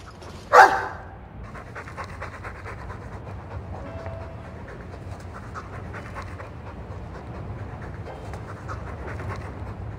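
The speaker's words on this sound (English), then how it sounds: "I'm sick of what's-his-name staring and panting." A Mabari war dog in the video game Dragon Age II pants in steady, rhythmic breaths. A sharp, loud sound bursts out near the start, and a low, constant background hum runs underneath.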